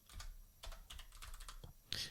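Fingers type a name on a computer keyboard to search for someone in the BlueSky social app, producing a short, close burst of irregular soft clicks with brief pauses and a sharper final keystroke.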